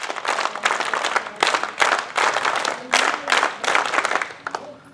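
Students at a college scout and guide ceremony clap together in rhythmic bursts, loud and close, several waves of crowd applause with short pauses between them.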